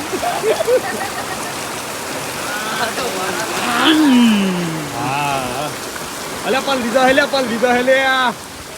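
Heavy rain pours down steadily during a downpour, a diffuse hiss beneath people talking throughout.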